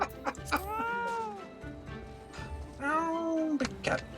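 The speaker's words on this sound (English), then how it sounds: "Oh, big cat. A fat cat mount." Fat cat mount in Final Fantasy XIV letting out two drawn-out, plaintive meows a couple of seconds apart, clear and close, with faint game sounds between them.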